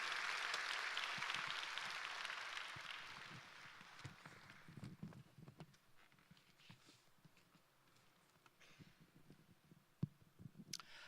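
Church congregation applauding to welcome the pastor at a Sunday worship service, loud dense clapping at first that thins out over several seconds into scattered claps and quiet room noise.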